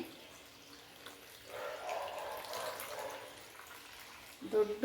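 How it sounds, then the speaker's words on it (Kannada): Water is poured over soapnuts in a container to soak them for a homemade shampoo. The soft, steady splashing pour lasts about two seconds, and a brief clunk follows near the end. "ಇವಾಗ ಇದನ್ನು ಇದಕ್ಕೆ ನೀರು ಹಾಕ್ತೀನಿ"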